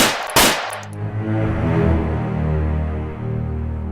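Gunshots fired blind in a short film: a sharp loud burst of shots at the start, followed by a long ringing, reverberant decay with a low hum.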